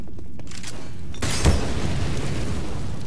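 A grenade detonates in the shooter game CS:GO, a single loud boom with a broad burst of noise that decays into a rumbling tail over steady background game ambience.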